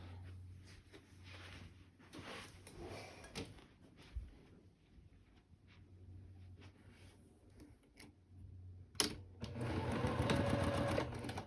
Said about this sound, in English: All right, now we're going to sew both of these.